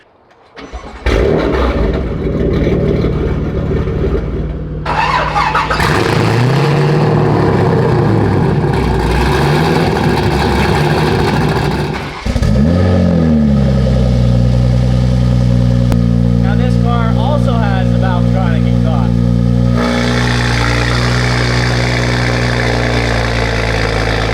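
A Lamborghini with a titanium exhaust starts with a bark, then revs sharply several times before settling into a deep, steady idle, loud and close.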